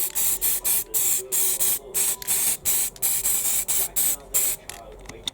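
Short bursts of aerosol spray paint in Chaos Black hiss onto Warhammer Lizardmen miniatures, Saurus Warriors and Cold One mounts. About a dozen loud, close puffs come in a steady rhythm with brief gaps between them.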